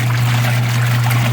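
A used Costway EP21684 mini washing machine churns a load of clothes in water, giving a steady motor hum under continuous sloshing and trickling water, close and fairly loud throughout.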